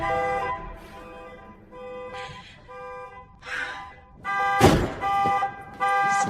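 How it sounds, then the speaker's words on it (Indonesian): A car horn is sounded several times in short, separate blasts during a thriller-film scene, moderately quiet, with a sharp thud partway through. "kedua orang itu terkecoh dengan suara klakson mobil yang dihurungkan oleh Emma"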